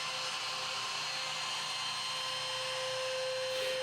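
A router with a flush-trim bearing bit trimming a plywood edge gives a steady high-pitched whine, constant and fairly close, with no breaks in the cut.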